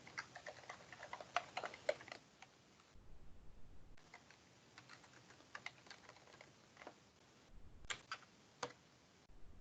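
Fingers type on a computer keyboard at close range, quiet rapid key clicks in uneven bursts broken by short gaps.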